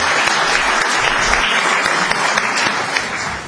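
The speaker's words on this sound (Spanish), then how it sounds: "entonces le damos un aplauso" Audience at a bank workers' confederation gathering applauds to welcome a speaker from Uruguay, loud continuous massed clapping from a nearby crowd with no talk over it.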